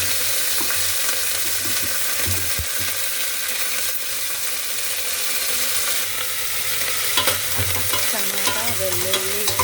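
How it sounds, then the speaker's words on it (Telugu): Dry red chillies, curry leaves and tomato fry in a hot tempering, giving a steady loud sizzle and crackle that runs the whole time, with some stirring clatter and no voices. "ఎండుమిరపకాయలు బాగా వేగుతుంది. ఇప్పుడు ఇవన్నీ వేసేస్తున్నాను."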